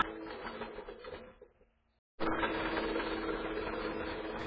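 Floor grinder stripping outdoor carpet backing and mastic from a surface, a steady close mechanical grinding drone that cuts out briefly for a moment and then resumes at full strength.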